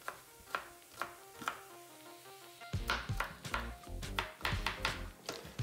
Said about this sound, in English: Then again, cut it into 1/2 inch lengths.